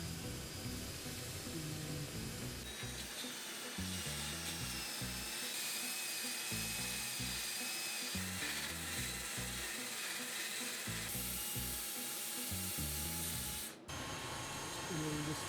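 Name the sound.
sanding a wooden hollow form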